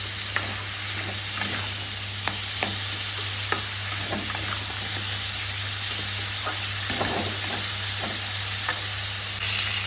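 Radish and potatoes fry in a pan with a steady sizzle. Occasional stirring scrapes sound close by, over a constant low hum in the kitchen, and no one speaks.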